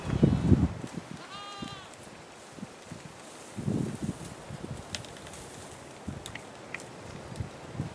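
Goats bleating nearby, one short wavering call standing out clearly over soft rustling and scattered footsteps, with a few quieter animal sounds later.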